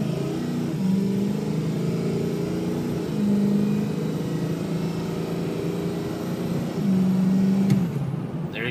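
A 2005 Ford F250 4x4 diesel engine runs steadily at idle, a continuous low rumble with a couple of brief rises in pitch like light revs, heard up close with no talk.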